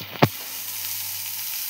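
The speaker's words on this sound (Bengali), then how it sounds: "এই যে মাছ ভাজা হচ্ছে" Fish frying in a pan gives a steady, fairly close sizzling hiss that runs on alone after a brief sharp click at the start.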